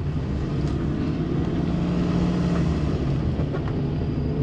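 Suzuki Alto Works on the move, a steady low engine drone with road rumble heard from inside the car, constant and fairly loud, no talk.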